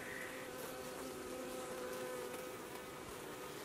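Honey bees swarming around an open hive during an inspection in Alaska, a dense steady buzz of many wings, close and faint-to-moderate, unbroken for the whole stretch.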